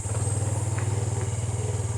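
A small Yamaha PG-1 motorcycle engine runs at a steady idle nearby, a low, even, pulsing putter with a faint high whine above it and no talking.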